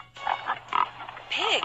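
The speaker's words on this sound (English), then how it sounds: "Pig." A pig oinks in a children's animal matching puzzle game: a few short, nasal grunts in quick succession, moderately loud over a faint steady hum.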